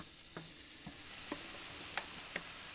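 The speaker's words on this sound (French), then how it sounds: "Donc on va les faire compoter tranquillement." Mirabelle plums simmer down into compote in a pan, making a faint, steady sizzle with a few soft taps from stirring.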